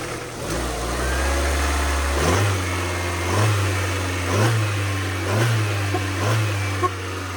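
A Dodge Omni engine runs close by with a steady rumble and no misfire, rising in several short revs before settling back to idle.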